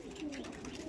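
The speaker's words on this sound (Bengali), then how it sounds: "ম্যাড্রাসি পায়রা একদম এখানকার ম্যাড্রাসি পায়রা তুলে এনে দিয়েছি" Madrasi pigeons coo softly at close range, a brief low throaty murmur with no voices.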